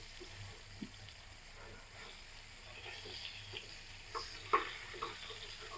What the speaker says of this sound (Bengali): এখন দেখতে পাচ্ছ আমি বেগুনগুলো উল্টিয়ে দিব